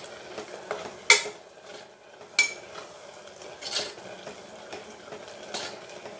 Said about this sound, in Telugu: ఈ బెల్లం పాకం వాటర్ అంతా కూడా బాగా వేపర్ అయిపోవాలన్నమాట మనకి.